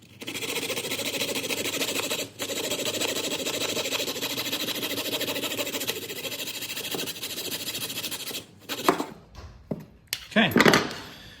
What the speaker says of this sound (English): So the easiest way to do this is use a saw. I have this coping saw.